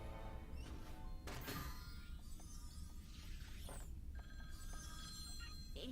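Telephone ringing in a My Little Pony: Friendship Is Magic Season 8 cartoon episode, a bright repeated ring that sounds over dense music and background sound for several seconds.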